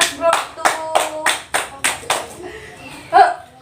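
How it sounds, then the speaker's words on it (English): A classroom of students applauds a student group after its lesson presentation, with several bursts of clapping rising and fading in quick succession, fairly close and loud, and a few voices chattering underneath toward the end. "Okay, give applause."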